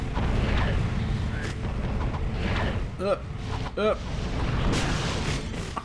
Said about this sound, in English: That was a crazy explosion.